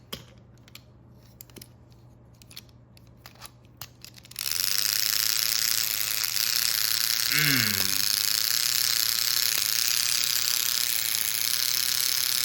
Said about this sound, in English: It's noisy and it has a flipping axle gear.